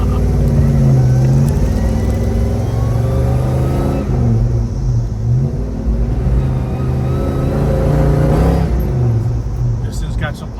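A 1967 Chevrolet Chevelle 396 convertible pulls down a street, its big V8 roaring loud and close with rising then falling engine pitch as it accelerates, eases off and revs again; a voice speaks over it.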